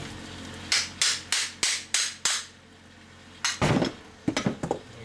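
A hammer smacks a cast part off a large scrap electric motor: a run of six sharp metallic blows in quick rhythm, a pause, then a clatter and several more quick strikes, close and loud with no talking.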